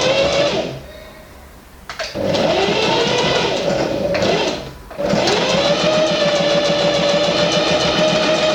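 Sewing machine running a zigzag stitch along a waistband, a loud, close mechanical whir that stops briefly twice and restarts, with a steady rapid needle rhythm and no talking.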